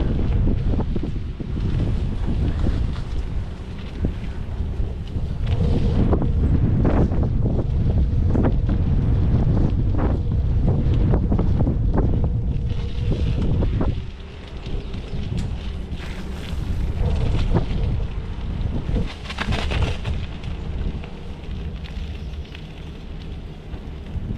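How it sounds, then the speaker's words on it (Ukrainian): Heavy wind buffeting the microphone while cycling through Poltava, Ukraine, a loud continuous roar with rumbling gusts throughout, no voices. "Так, замовкаю, бо вітер."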